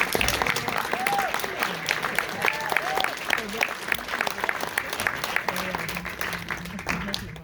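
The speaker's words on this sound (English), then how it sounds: "Let's give a huge round of applause for them." Steady applause from the audience at a Q&A for a TV series, dense and sustained, with some voices and whoops mixed in.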